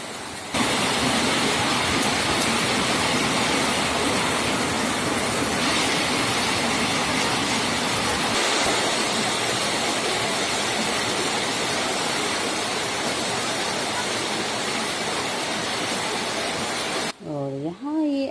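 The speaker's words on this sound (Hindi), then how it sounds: "आज सुबह का मौसम कैसा था और अभी क्या हो गया है, बारिश शुरू।" Rain starting to fall on a morning during lockdown, a steady broadband hiss of showers that runs loud and unbroken for most of the stretch before cutting off near the end.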